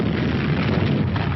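An explosion during an Indian Air Force Garud commando operation, a brief, dense roaring blast that fills the whole moment with no voices.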